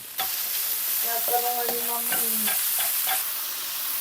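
Garlic, onion, ginger and ground meat sauté over very high heat, giving a steady loud sizzle with scraping stirs, while a melodic tone sounds through the middle.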